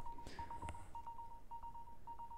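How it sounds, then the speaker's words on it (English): A mobile phone rings during a classroom lecture, its faint, thin electronic tone pulsing in a quick, steady pattern of short beeps against a quiet room. "the phone rang"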